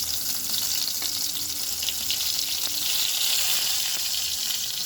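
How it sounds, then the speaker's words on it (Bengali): Pointed gourd (potol) frying in oil, a continuous hissing sizzle at moderate loudness with a few faint clicks and a brief tonal ring, no talking. "ভাজা হচ্ছে,"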